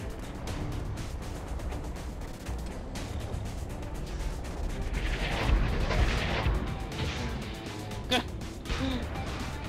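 Airstrike explosions in Tribes Ascend roll in as dense, rumbling blasts over constant gameplay noise, with a sharp crack near the end and players talking.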